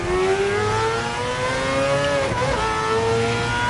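A race car engine revving hard on the Spa circuit, a loud, sustained rising whine with a brief dip in pitch partway through as the driver shifts gear, then climbing again.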